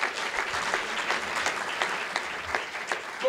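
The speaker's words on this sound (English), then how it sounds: "One more round of applause for InnoTech." A crowded room at an awards ceremony breaks into sustained applause, dense and even, with clearly separate hand claps standing out from a steady roar at moderate distance.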